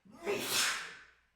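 A single close, breathy sneeze from a person with bronchitis bursts out and fades over about a second.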